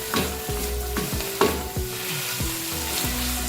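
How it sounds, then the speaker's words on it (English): Chicken and shimeji mushrooms sizzling in a hot pan under steady frying hiss, with rhythmic scraping strokes of a spatula stirring about twice a second, close and loud with no voices. "That's quite enough stir frying."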